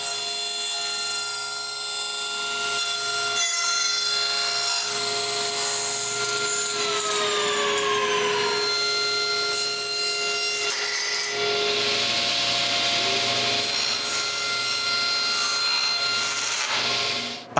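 Saw cutting through the aluminium pieces of a zebra blind, a steady rasping, grinding stroke that runs loud and close for the whole stretch with shifting metallic whine and no talk.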